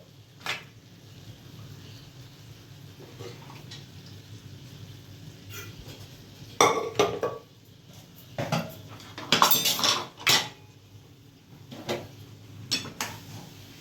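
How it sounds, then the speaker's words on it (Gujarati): Tempered masala khichdi being scooped into a pressure cooker, with scattered metallic scrapes and clanks of a spoon against steel pots over a quiet background, growing busier toward the end. "આ વઘારાઈ ગઈ છે અને હવે હું કુકરમાં નાખું છું."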